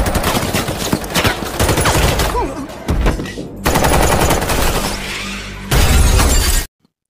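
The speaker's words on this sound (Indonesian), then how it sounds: "Kemudian terjadi baku tembak antara petugas dengan Alex." Heavy gunfire in a film shootout, rapid bursts with shattering glass, loud and chaotic, broken by brief pauses before cutting off abruptly.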